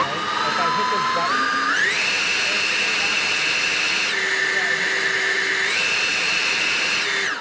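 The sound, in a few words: ECHO DPB-5800T battery backpack leaf blower running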